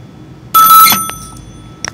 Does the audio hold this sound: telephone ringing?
yes